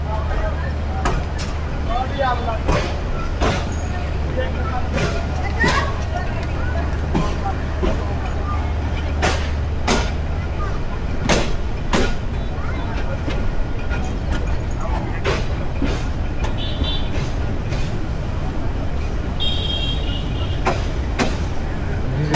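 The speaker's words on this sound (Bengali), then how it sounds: "গাছিহাটা স্টেশন থেকে আবার বের হয়ে যাচ্ছে।" A passenger train pulling out of Gachihata station in Bangladesh, with a steady low rumble and a series of rhythmic clanks from the wheels and couplings, and faint chatter from passengers nearby.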